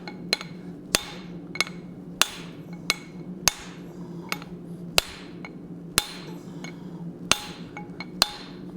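A hammer strikes hot steel on an anvil while forging a hot cut hardy, about a dozen sharp ringing blows at a loose, steady rhythm over a low hum of the shop.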